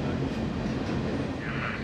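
A freight train rolls past close by, a loud continuous rumble with faint rhythmic wheel clatter and a brief high squeal near the end.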